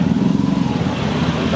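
Motorcycles in traffic at Malabon fish port, a close, steady rumbling engine drone filling the short moment, with talk over it.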